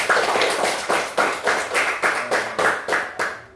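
A group claps hands together in a classroom, giving about eight evenly spaced, crisp claps in a steady rhythm, close and loud, with no talking.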